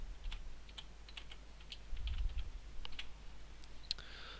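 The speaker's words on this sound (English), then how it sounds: "The line items can be typed in manually" Faint, quiet typing on a computer keyboard while invoice line items are entered, with scattered light key clicks over a low background hum.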